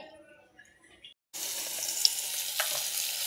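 Mourala fish sizzle loudly in a pan after a quiet start with soft handling noises, then a steady bright hiss with a few spatters and pops, close up and with no talking.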